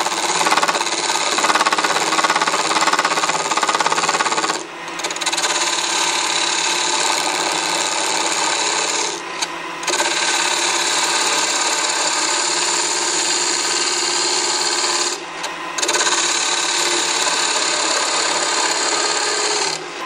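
A wood lathe spins a bowl blank while a turning tool takes light cuts to remove the tenon, giving a steady, loud scraping and rasping hum that breaks off briefly three times before resuming, with no talk.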